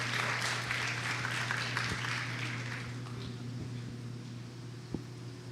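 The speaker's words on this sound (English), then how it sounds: "A warm round of applause to Dr. Eva." Audience applause at an ethics bowl event as a speaker approaches the stage, a moderate wash of many hands clapping that fades gradually, with a few isolated claps and a faint hum beneath.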